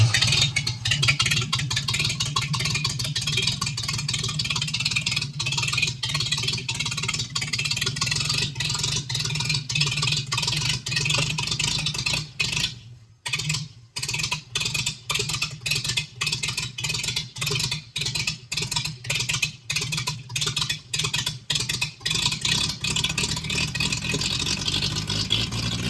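A 1937 coupe with a Stovebolt 216 engine runs loud and steady close by, its rough mid-pitched drone broken near the middle by a brief dropout and a string of stuttering cuts before settling again.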